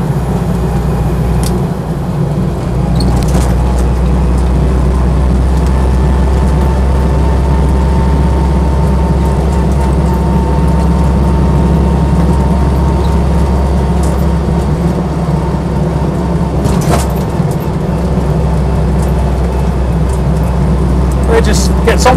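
A Land Rover Lightweight rumbles along on the move with a continuous low engine drone and road noise, while someone talks over it throughout.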